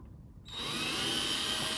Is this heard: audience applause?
no